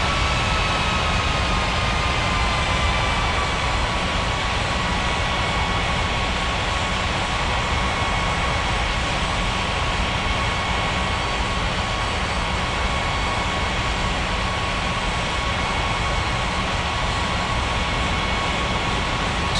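Steady, loud jet engine roar from airliners in an air traffic control simulation game, a continuous broadband rumble with faint high whining tones holding throughout, no voices.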